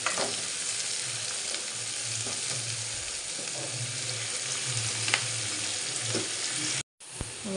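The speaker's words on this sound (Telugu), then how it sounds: "కరాపాకు వేసేసి మగ్గించేసుకున్నాను కొంచెం ఫ్రై అవనివ్వాలి" Curry leaves with onions frying in a pan, a dense, steady close sizzle with occasional faint stirring clicks, running unbroken until a momentary cut near the end, no voices over it.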